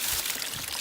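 Water trickles and pours through piping into a bucket in a ram-pump water setup for a small cabin: a brief, faint, continuous splashing flow.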